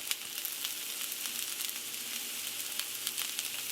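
Onion and crushed red pepper frying in a hot skillet, a bright continuous sizzle with scattered pops and crackles, close and steady throughout.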